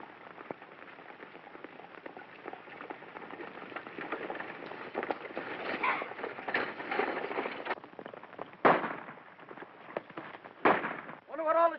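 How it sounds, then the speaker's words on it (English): Gunfire during a stagecoach holdup in a John Wayne western, a dense volley of rapid cracking shots followed by a few louder isolated bangs, with no talk. "Wonder what all the shooting's about."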